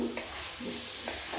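Cabbage sabzi with roasted masala being stirred in a pan, a soft scraping and sizzling of frying vegetables in two brief strokes, close and steady with no voices.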